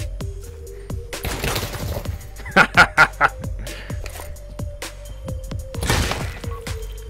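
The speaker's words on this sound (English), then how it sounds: "Shot myself." Gunfire in the VR shooter Pavlov: repeated sharp shots crackle across the scene, including a tight rapid burst in the middle, with a faint electronic hum underneath.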